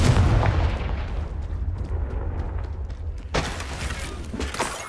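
A Confringo fire spell goes off in Hogwarts Legacy, a loud booming blast that rumbles and decays over several seconds, followed by a second sharp crackling impact near the end.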